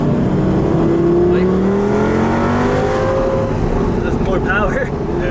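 A Lamborghini Gallardo accelerates hard on a test drive, engine note climbing steadily through a gear and then easing, loud and continuous from inside the car, with voices over it.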